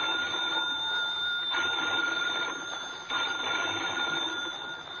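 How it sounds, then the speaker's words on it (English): Telephone bells ring urgently and continuously in an old lighthouse for a radio drama, a steady bright electric jangle held loud throughout with brief dips, no voices over it. "Phone bells ringing urgently in the dimness of the old lighthouse"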